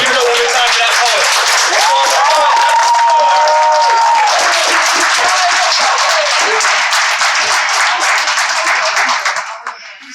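A poetry slam audience breaks into sustained, loud applause for a youth poet, dense clapping mixed with whoops and cheers that holds steady for about ten seconds before starting to thin at the end.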